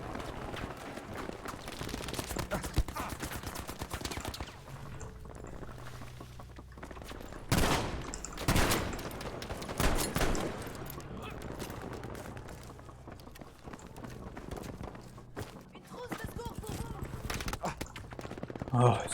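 MG42 machine gun fire in Battlefield V, coming as long rattling bursts of rapid shots with some heavier booms in the middle, while someone talks over the battle noise.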